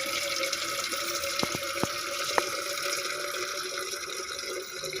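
Water rushes steadily from a borewell pump that has just been started, a constant loud gushing flow with a few faint clicks and knocks, no voices.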